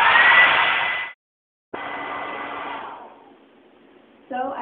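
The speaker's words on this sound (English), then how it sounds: "I just heated up the hourglass with a blow dryer" A blow dryer blasts hot air onto an hourglass in two loud steady bursts separated by a short silence, the second burst fading before the dryer roars back on near the end.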